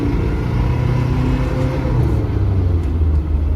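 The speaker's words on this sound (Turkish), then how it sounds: "Şey bir bağırtalım motor sesini duyalım." A Mitsubishi L200 pickup truck engine drones steadily and loudly throughout, a deep continuous rumble as it is held revved, with no talking.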